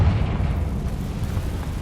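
A Confringo fire spell blasts in Hogwarts Legacy, a deep, rumbling explosive boom that rolls on steadily for a couple of seconds, loud and close with no talk over it.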